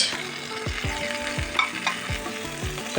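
Poppy seed paste with pumpkin, soaked chickpeas and green chilli paste sautéing in a pan, a steady close sizzle broken by a regular rhythm of spatula scrapes and stirs, with no talking.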